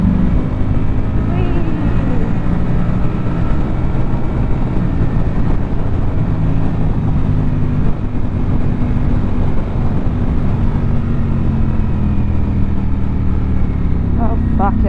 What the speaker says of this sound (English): This is a standard exhaust.